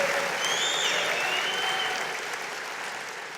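A church congregation applauds during a worship service, a dense, steady wash of clapping that slowly tapers off, with no talk over it.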